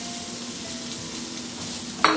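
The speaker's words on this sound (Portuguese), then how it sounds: "Vamos fritar aqui também a cebola." Half a finely chopped onion fries with garlic in a pan, a steady soft sizzle that runs throughout and ends with a sharp utensil clank, with no talking.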